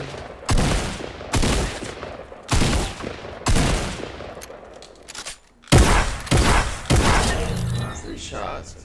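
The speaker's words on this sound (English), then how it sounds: "Three shots." A drum shotgun fires in a video game at a shooting range, each blast a loud, sharp burst with a ringing tail, repeated in separate rounds, while someone talks between shots.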